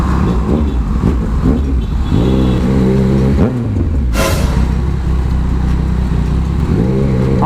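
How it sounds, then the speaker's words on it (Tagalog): A Yamaha Tracer 900 adventure motorcycle accelerates on the road, its engine note rising through the gears in loud, continuous pulls with brief dips at shifts, close to the rider. "Ang tulin na itong motor na to, kakaiba."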